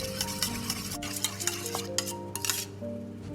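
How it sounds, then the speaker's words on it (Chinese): A spoon briskly stirs a sauce of rib sauce, oyster sauce and soy sauce in a small bowl, with rapid close clinks and taps against the bowl in an uneven rhythm and no talking. "然后把料汁搅拌均匀"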